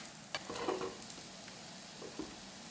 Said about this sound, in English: I'm going to take my spatula. I'm going to turn it so I can get the olive oil kind of coated on both sides.